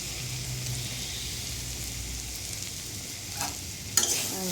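Ginger, cumin, green chilli paste, salt and turmeric sautéing in a pan for a vegetarian yam curry, a continuous close sizzle with a couple of stirring scrapes near the end.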